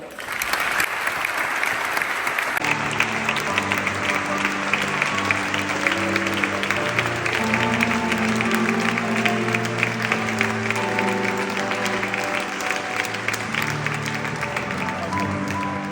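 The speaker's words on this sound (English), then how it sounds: "So now, applause for all of them." Audience applause for the volunteer board members at the European Heritage Awards ceremony in Bucharest, steady and full from a large crowd throughout, with sustained musical tones playing beneath the clapping.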